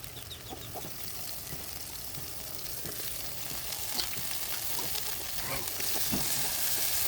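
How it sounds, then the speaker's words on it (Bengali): Homegrown country rooster meat frying with spices in oil, a faint steady sizzle with occasional stirring clinks, heard close but quiet under a hissy background. "মাংসটা মশলার সাথে দিয়ে এখন বেশ কিছুক্ষণ সময় ধরে মাংসটা কষিয়ে নিব"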